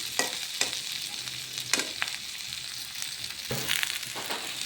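Garlic and chilies frying in a little oil, a soft steady sizzle broken by several sharp scraping strokes of a spoon stirring the pan, close and fairly quiet.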